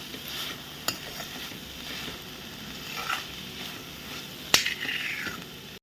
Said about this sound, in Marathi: आता दोन मिनटांनी झाकण काढते मी आणि पुन्हा एकदा ढवळून घेते